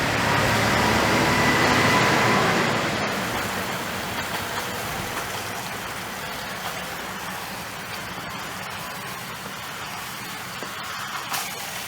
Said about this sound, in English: My hose seems to be wanting to spray a little hard.